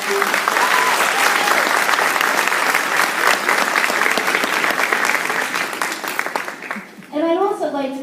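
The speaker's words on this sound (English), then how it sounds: "Can we give them a round of applause for them?" Loud audience applause fills the room, dense and steady for about seven seconds before fading, then a voice begins speaking.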